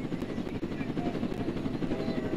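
A helicopter in the Roblox Jailbreak game gives off a steady, dense rotor thrum, loud and continuous, with faint voices underneath.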